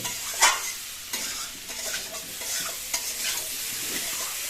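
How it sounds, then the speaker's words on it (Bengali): Boiled giant taro sizzles and sautés in oil in a pan while it is stirred, with bright frying hiss and scraping strokes close by and no voices. "সিদ্ধ করেছি মানকচু কষাতে একটু টাইম লাগে মোটামুটি তিন চার মিনিটের মধ্যে হয়ে যাবে"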